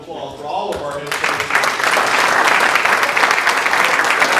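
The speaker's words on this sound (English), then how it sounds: "one more big round of applause for all of our head" A crowd applauds the head coaches at a high school basketball championship introduction, dense clapping swelling after a brief stretch of amplified speech and staying loud to the end.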